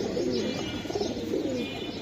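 Khaki giribaz pigeons with red eyes coo softly at close range, a pair of low throaty rolling calls over a short span, with no voices present.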